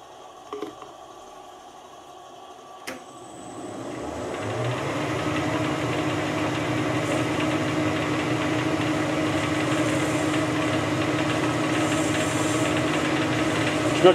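Metal lathe taking a light spring cut on a metal taper, starting with a few clicks and a knock before a steady whirring, humming drone of the running machine settles in and continues evenly.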